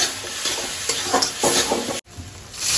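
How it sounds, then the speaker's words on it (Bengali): Pineapple sour chutney being stirred in a pan, a steady scraping and sizzling sound with soft repeated strokes, close and fairly loud, with one brief dropout near the end. "দেখো যত নাড়াবে তত ভালো হবে, এইভাবে নাড়াবে"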